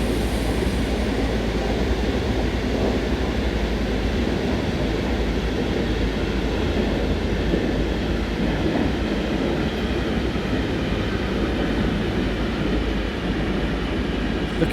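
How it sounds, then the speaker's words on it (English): A train in the Train Sim World 3 simulator rolls steadily on the Linke Rheinstrecke toward Koblenz under light braking, a continuous loud rumble of wheels and running gear with no voices. "We'll start to apply minimum brakes here."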